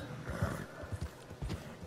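A horse gallops in Red Dead Redemption 2 Online, its hooves beating a steady, rhythmic clip-clop close by with no talk over it.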